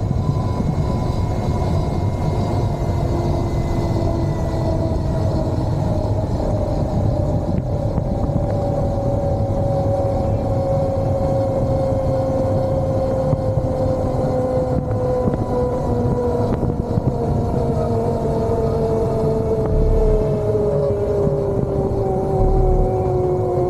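An electric bike with a converted AC motor running as a BLDC motor climbs a 300 meter hill, a steady loud motor whine slowly dropping in pitch over a constant rumble of wind and road noise.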